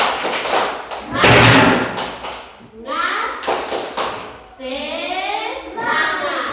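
Children in a classroom clap a rhythmic cheer together, sharp bursts of hand claps in a patterned sequence, with young voices chanting and shouting between the claps.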